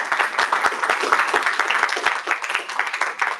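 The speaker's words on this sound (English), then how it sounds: "let us give a big round of applause." An audience applauds at the close of a talk on advancing women's health in least developed countries, with dense, steady clapping from many hands that holds near and fairly loud throughout.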